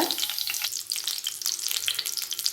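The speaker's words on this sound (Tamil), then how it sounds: "இதை இப்போ இந்த எண்ணெயில் நம்ம வதக்கி எடுக்க போகிறோம்" Brinjal pieces sautéing in generous oil in a pan for a Tamil oil brinjal gravy, a steady close crackling sizzle with soft stirring scrapes and no voices.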